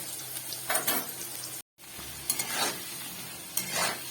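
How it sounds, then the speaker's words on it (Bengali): Potatoes fry in oil with turmeric and salt, giving a continuous close sizzle, punctuated by several scraping stirs and a brief cut-out partway through. "একটু দিলাম হলুদ আর একটু নুন দিয়ে একটু লাল লাল করে আলুগুলোকে ভেজে নেব।"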